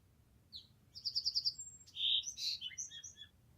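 A caged bird sings alone and fairly faintly, with a rapid run of repeated bright chirps followed by short, varied whistled trills over a quiet background.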